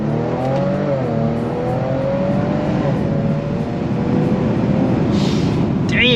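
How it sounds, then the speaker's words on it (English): A tuned Kia Stinger with valve mufflers pulls hard through first gear, its engine note climbing in rising sweeps under a loud, continuous exhaust roar, ending with a brief higher screech; a voice can be heard alongside. "First gear pull, let's hear it."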